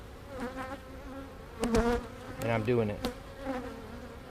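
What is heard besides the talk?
honey bees buzzing from a split beehive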